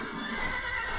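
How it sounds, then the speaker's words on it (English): A horse neighs in Minecraft with the Mo' Creatures mod, a short, clear whinny with hoof clip-clops mixed in, close and alone. "look at that, there's baby horses"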